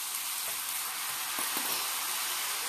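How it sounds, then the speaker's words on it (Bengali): Pumpkin pieces sizzle steadily in hot oil in a pan, a continuous even frying hiss with a few faint stirring taps, no voices. "আমার কুমড়োটা কেমন ভাজা হচ্ছে।"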